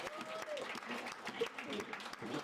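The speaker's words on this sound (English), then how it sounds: "I think you should clap for yourself." Audience applause at a school AED project event, a steady wash of many hands clapping at moderate volume throughout, with some voices mixed in.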